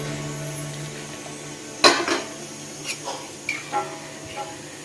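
A pot of Bengali katla fish curry cooked with mango is stirred and then covered with its lid, giving a sharp metallic clank followed by a few lighter scrapes and taps against the pot over a steady burner hiss.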